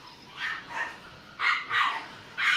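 A dog barks repeatedly in irregular bursts of two or three yips, moderately distant and faint, with no talking.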